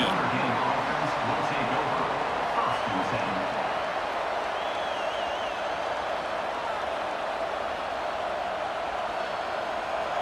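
Steady, dense roar of a stadium crowd at a football game, a broad continuous wash of noise heard at a distance with a broadcast commentator talking over it.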